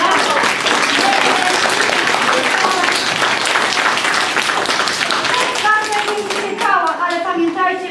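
An audience claps for a group of girls at a municipal Easter decoration contest held in a parish setting, loud continuous applause that thins out near the end as a few voices come through.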